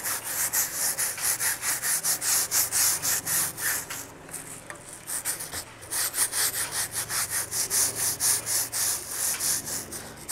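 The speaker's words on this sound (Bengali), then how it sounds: "তো এই ব্রাশটা দিয়ে আমরা বেশ ভালো করে ঘষে ঘষে এই টায়ারটাকে কিন্তু আমরা ক্লিন করে নেব" Steady back-and-forth scrubbing of a brush against an electric bicycle's rear tire, loud and close, in quick regular strokes that pause briefly midway before resuming; no voices.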